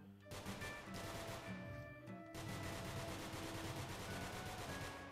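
Continuous rapid gunfire from the roguelike shooter game NONGUNZ, a dense, loud stream of shots layered with game effects and tonal music, unbroken across the whole stretch.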